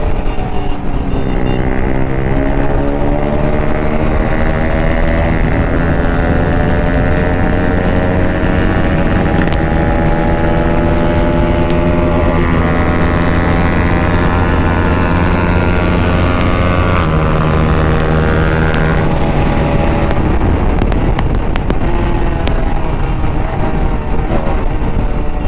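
A Yamaha-style RS200 motorcycle engine revs hard at high speed during a street race, its rising and falling tone sustained loud and close throughout, shifting through gears with wind rush and no talking.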